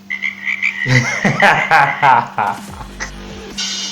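Frog croaks in a short promo piece, a few loud, rough tonal calls repeating in quick bursts over a busy mix of other sounds, with a low steady hum underneath.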